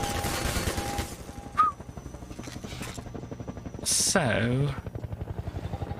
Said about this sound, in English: Okay, helicopter is there. Helicopter's there.